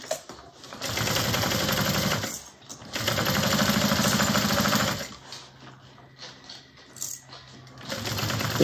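A sewing machine stitches a satchel seam toward the lining with a close, steady rapid chatter in several runs, separated by short pauses and a lower hum.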